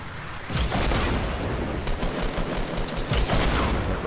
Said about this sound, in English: rocket's coming in